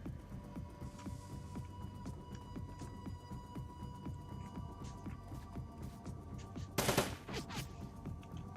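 Automated gun turret firing in the Shadowrun: Dragonfall video game, a steady rapid fusillade of shots over a low humming game backdrop, with one sharper, louder burst near the end.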